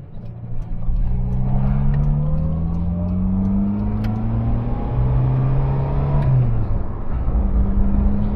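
Leyland Marina six-cylinder car engine in single-carburettor form, heard from inside while driving on an Australian road, a steady loud drone with rising and falling rev pitch as it accelerates and shifts gears.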